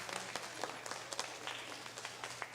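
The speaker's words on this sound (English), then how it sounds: "Y'all give him a round of applause, please." A church audience applauds auctioneer Charlie Bradshaw at a fundraising event, giving a brief, fairly faint patter of clapping with scattered sharper claps over a low room hum.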